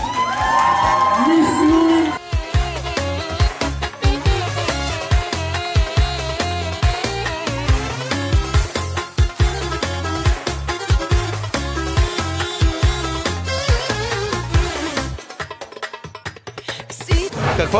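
A crowd at the Miss Lyulin 2019 pageant cheers and whoops loudly as music with a heavy, pulsing beat plays, excited shouts rising early and the noise staying dense and near throughout.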